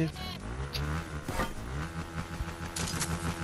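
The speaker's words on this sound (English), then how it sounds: "Can you stop revving up the engine, please?" A car engine revving in Fortnite Chapter 4 Season 1, a sustained mid-pitched engine drone rising and falling over a few seconds while players talk over it.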